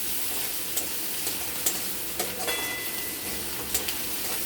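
Onion fries in hot oil for a Bengali fish-head, pumpkin and potato dish, a continuous loud sizzle broken by frequent crackles and the scrape of a spoon stirring, with no talking.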